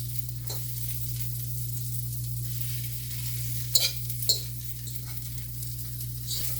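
Zucchini and squash flowers frying in oil, a steady close sizzle over a low constant hum, broken by a few sharp clinks and stirring knocks near the middle, no one speaking.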